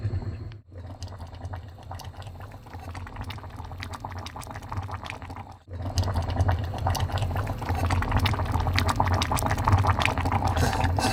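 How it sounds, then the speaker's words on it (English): A pot of food boils hard on a stove inside a small electric motorcycle camper, giving a steady, dense bubbling and hissing that runs alone throughout, briefly dropping out twice before returning slightly louder. "That thing is bubbling like crazy."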